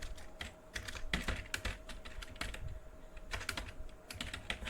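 Fast, steady clicking of keys on a computer keyboard while JavaScript code is typed, close and clear, with a faint constant hum underneath.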